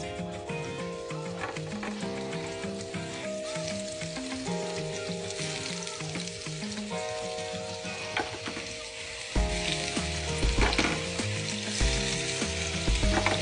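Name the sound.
king oyster mushroom vegan scallops sizzling in non-stick pan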